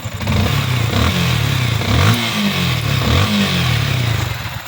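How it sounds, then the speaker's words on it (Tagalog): A Yamaha Sniper 155 motorcycle engine, with a replaced rocker arm pin, idles and revs nearby, loud and continuous, with rising and falling pitch and a mechanical clatter underneath. "So pakinggan natin yung uh, ating nalawang motor from Santa Rosa, Laguna."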